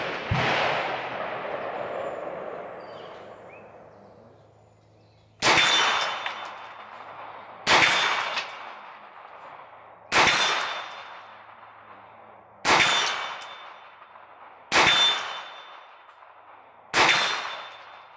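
A Hi-Point 995TS carbine fires six sharp, loud single shots at an outdoor range, spaced about two seconds apart, each with a ringing decay, following the fading tail of an earlier shot.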